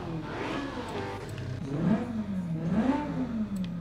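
A DeLorean DMC-12 fitted with a swapped-in 7.4-litre twin-turbo V8 in Forza Horizon 5 revs up twice, rising and falling in loud, rough surges over a steady idle rumble, with no talking.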